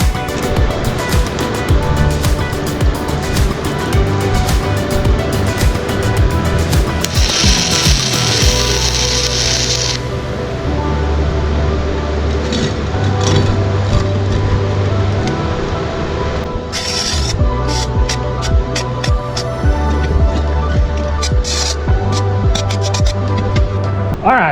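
A 2024 BestArc arc welder lays beads on metal, giving a loud, continuous crackling hiss over a steady electrical hum, with a brighter sizzling stretch partway through and no talking.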